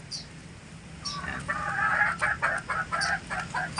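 A large chicken clucks in a pen, a few short calls rising over steady low background noise and continuing in a loose, uneven rhythm.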